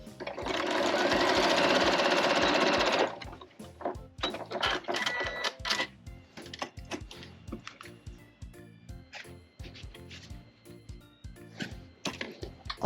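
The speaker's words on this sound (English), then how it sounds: "I'm going to sew partially up" A sewing machine stitches a seam on a bag made from an old quilt, running in one loud steady burst for about three seconds, then giving way to short irregular clicks and handling taps.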